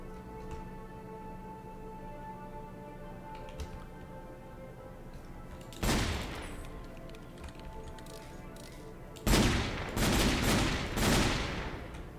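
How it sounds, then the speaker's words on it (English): Machine gun fire in the video game Minecraft with the Supersymmetry mod, two sharp bursts of rapid cracking shots over a low game background hum, loud and close, with no talk. "Machine gun!"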